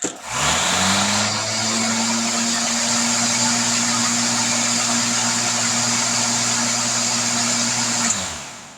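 Corded electric lawn mower converted to battery power, spinning up and running in a steady loud whine for several seconds before cutting off, close by and without talking.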